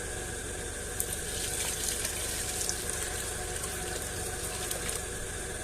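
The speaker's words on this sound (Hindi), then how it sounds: "ये हमने पानी ऐड कर दिया है" Water pours steadily into chana dal in a cooking pot while preparing bhurta, a soft continuous splashing and trickling that stays low and even for several seconds with no talking.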